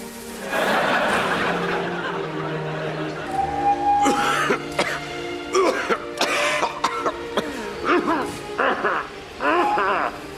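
A person coughs and clears their throat several times in quick, rough bursts, mixed with talking and a bit of chuckling.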